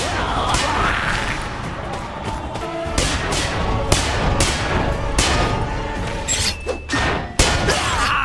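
A weapon shatters to pieces in the Dante's Inferno video game, with a dense run of loud crashing, smashing and thudding hits in quick succession over game noise.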